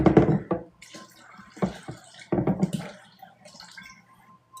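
Water poured into a pan while cooking a moong dal vegan egg recipe, heard as short splashing bursts and trickles with pauses between them, fairly close and moderately loud.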